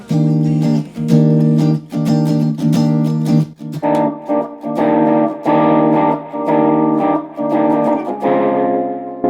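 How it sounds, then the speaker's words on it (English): Sire S3 electric guitar through a Line 6 Spider amp and a Dirty Blues overdrive pedal, strummed chords in a steady rhythm with gritty, slightly crunchy sustain, loud and close, no voices. "It's my blues overdrive pedal."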